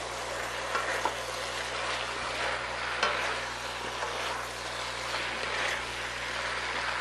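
Vegetables are stirred in a pot while making beef stock, with a steady sizzle and occasional scraping clatters of the spoon, a low hum in the background and no talking.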